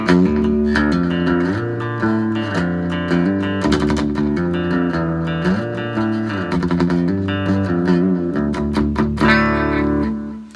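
Electric guitar plays chords and single notes with a quick slapback delay echo trailing each attack, without distortion pedal, loud and continuous without any talking.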